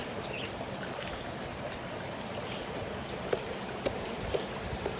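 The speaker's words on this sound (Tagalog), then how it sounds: "Tubig yan. Maliit na sapa." A small stream flows steadily near Clear Water Bay, Hong Kong, a continuous close watery rush with a few brief splashy ticks, no one speaking.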